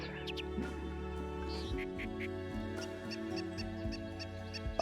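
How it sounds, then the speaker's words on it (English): A squeaky hawk call from the Wingspan bird video game: a few short, shrill high squeaks, one cluster early and another about a second later, set over steady background game music. "The hawk's so squeaky!"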